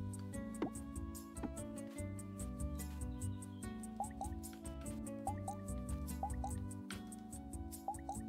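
Crops watered in the video game Moonstone Island, a series of soft dripping splash effects recurring at regular intervals over a continuous background music track.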